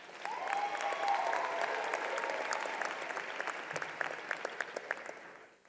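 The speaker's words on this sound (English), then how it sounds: "Please give yourselves a round of applause" Graduates at a university commencement ceremony break into sustained, dense applause, steady and loud from the start, with a few sharper individual claps and faint cheers rising over the hall before it thins slightly near the end.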